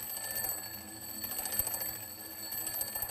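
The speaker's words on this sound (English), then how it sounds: "Now listen to the sound as the alarm clock moves away." A ringing alarm clock recedes into the distance, its continuous rapid metallic bell clatter and steady high tones persisting at a moderate level throughout, with no one speaking.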